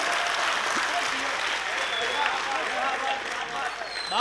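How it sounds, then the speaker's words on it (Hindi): A crowd at a national poetry gathering marking Kargil Vijay Diwas breaks into steady, full applause that holds at an even level throughout with no pause. "जरा एक बार भरपूर तालियां दीजिए जरा।"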